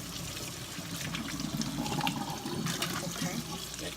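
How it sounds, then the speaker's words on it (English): Chilies rinsed under running water in a kitchen, a steady close splashing and trickling stream lasting throughout with brief faint speech traces underneath. "I'm just gonna rinse them all completely, and then just discard this water."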